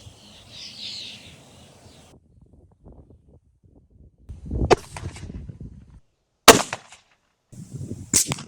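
Gunshots at a cricket-themed target practice, fired at a target 100 yards away: a few sharp, loud cracks separated by quiet gaps, with faint background noise early on.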